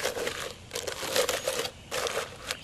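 A plastic bag holding steel wool being handled close by, giving quiet bursts of crinkling and rustling that come and go for a couple of seconds, with no talking.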